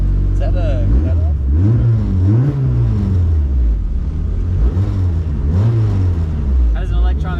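A car engine with an electronic exhaust cutout revs repeatedly, its deep throaty note rising and falling in several close, loud swells, with people talking over it.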